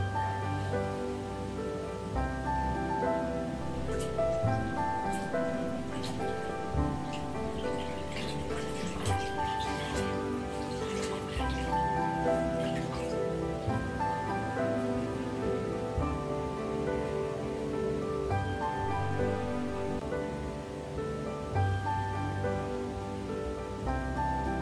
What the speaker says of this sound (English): We immerse the folded washcloths for sponging in a basin of water.